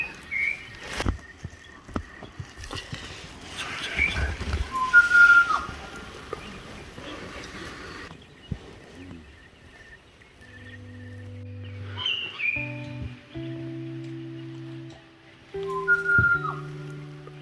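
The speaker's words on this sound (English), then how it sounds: "there's so many birds just waking us up beautifully this morning with the sun rising" Birds whistle and sing at sunrise along the Canning Stock Route 4WD track, clear sweeping calls and tonal phrases repeating close by over the quiet morning bush, with no talk.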